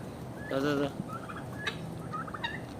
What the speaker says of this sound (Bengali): তিতিক মুরগিগুলা